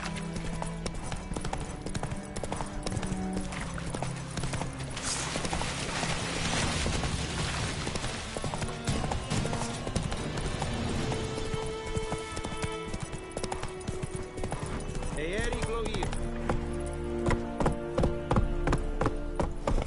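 Rapid clip-clop of a galloping horse, Roach, in The Witcher 3: Wild Hunt, drumming steadily and up close for the whole stretch, with game music and an occasional whinny mixed in.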